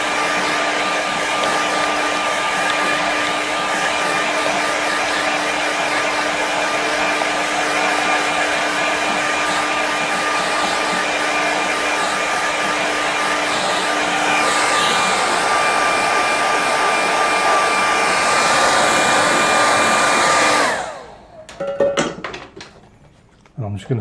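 A hair dryer blowing steadily on a watercolour painting, a loud, constant whirring hum that cuts off near the end, followed by a few light knocks and handling noises.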